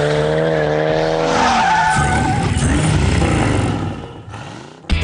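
A high-performance sports car burns rubber, its tires squealing in a long, loud skid over a roaring engine that fades toward the end before a sharp final burst.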